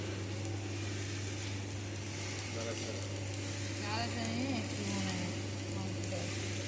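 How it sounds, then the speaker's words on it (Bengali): A home-fitted roaster machine fries native rice with a continuous sizzling, rustling hiss over a steady motor hum, while voices talk faintly nearby. "দেখে নাও দেশি চাল ভাজছে দাদা"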